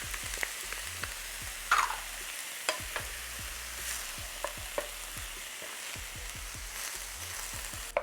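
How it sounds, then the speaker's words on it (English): Oxtail sautéing in a pan with minced garlic and ginger: a steady soft sizzle punctuated by repeated scraping and clinking as a utensil stirs the pieces, close and fairly quiet, with no talking. "you just want to saute this just for a few minutes just to bring out all those amazing flavors"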